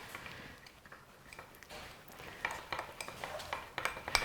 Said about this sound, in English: let's stir that on up